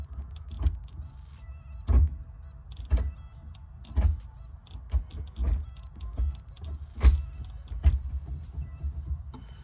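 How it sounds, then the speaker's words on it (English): An Acura Integra 92/93 YS1 transmission with stiffer Hybrid Racing detent springs is run through its gears by hand: a series of close, sharp mechanical clunks and clicks, about one per second, over a low background rumble. "I'm gonna just run through the gears for you guys."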